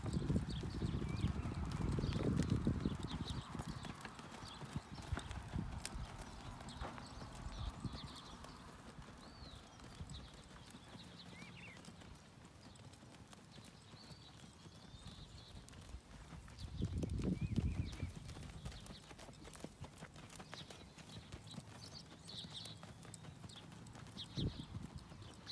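Hooves of a horse in a western pleasure class walk flat-footed, giving soft, irregular clip-clop steps on arena ground, moderately distant and faint, with scattered background noise.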